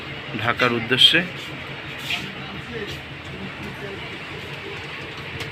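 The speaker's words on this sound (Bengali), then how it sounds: "আপনারা দেখতে পাচ্ছেন মধুমতি এক্সপ্রেসটা চলে যাচ্ছে" The Madhumati Express pulls out of Rajshahi railway station, a low rolling rumble carrying on under a voice that speaks only briefly at the start.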